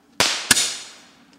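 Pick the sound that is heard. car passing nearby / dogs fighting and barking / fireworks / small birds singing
fireworks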